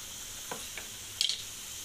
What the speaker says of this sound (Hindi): अच्छी तरह से फ्राई हो रहा है इसमें ही